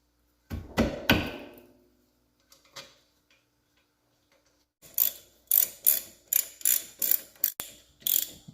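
Ratchet clicking as brake caliper bolts are tightened on a Dodge Journey during rear brake work: a few short bursts of pawl clicks, a long pause, then a quick series of sharp ratcheting strokes, close and clear with no talk.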